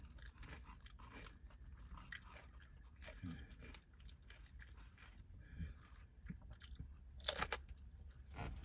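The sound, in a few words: eating crunchy chips with cheese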